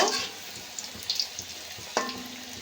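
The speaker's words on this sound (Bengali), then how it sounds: "একই রকমভাবে আমি সব পকোড়াগুলো ভেজে নেব" Chicken pakora fries in hot oil as a soft, steady sizzle with faint crackles and a couple of light clinks, quiet and alone.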